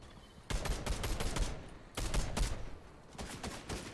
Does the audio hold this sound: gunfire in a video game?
yes